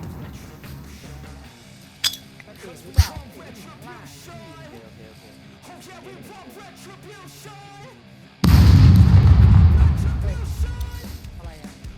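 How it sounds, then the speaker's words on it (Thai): Game sounds with a few sharp clinks lead to a sudden loud grenade explosion in the game SCUM that roars and slowly fades over a couple of seconds, with talking throughout. "ปาระเบิด"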